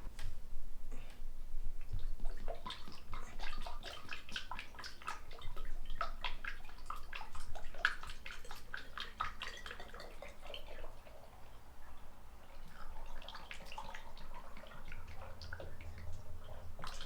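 Motor oil, about seven quarts, pours from a funnel into a used car's engine during a basic tune-up: a steady, close liquid trickle and glug running continuously with no talk.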